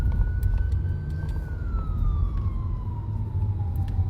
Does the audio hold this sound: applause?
no